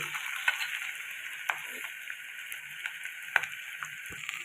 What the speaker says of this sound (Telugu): వెల్లుల్లిపాయలు వేసాను, టమాటాలు కూడా వేసేసా, కలుపుకోండి.